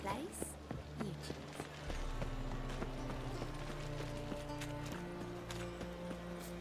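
Horse hooves clip-clop in a video game, a quiet, steady trot running low beneath ongoing speech and background game music.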